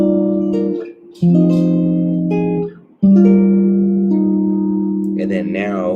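A guitar plays a chord melody arrangement: clean sustained chords struck one after another, near and clear, with brief pauses between phrases.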